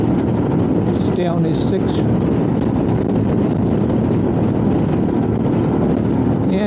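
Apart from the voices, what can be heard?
wind noise on motorcycle riding behind a heavy goods vehicle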